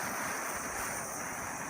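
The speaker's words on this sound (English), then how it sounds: "it's windy out here right now" Wind blows steadily outdoors beside a bee hive, roaring against the microphone as a constant, even rush throughout.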